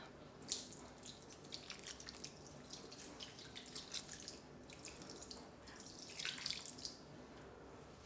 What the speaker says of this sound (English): So put in water.